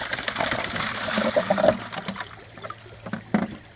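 Water sloshing and trickling as a gold panning sluice is washed out in a bucket, close and continuous with a few louder splashes.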